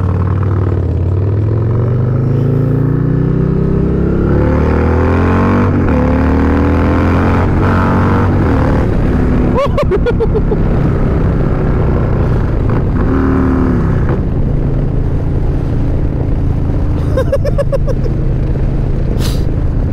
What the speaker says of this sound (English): A Milwaukee 8 with a cam in it.